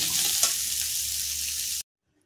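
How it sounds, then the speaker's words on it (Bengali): Dried red chilies frying in a pan for chicken sokbaji, a steady close sizzle with a brief stirring clink, cutting off abruptly into silence. "দুটো শুকনো লঙ্কা দিলাম। এবার এটাকে একটু নেড়ে চেড়ে হালকা করে ভেজে নেব।"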